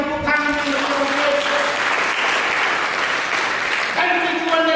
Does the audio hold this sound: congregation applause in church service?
yes